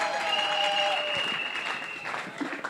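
A live audience at a semifinal show claps and cheers steadily for a few seconds, loud and sustained, with a whistle-like tone early on that fades as the applause tails off.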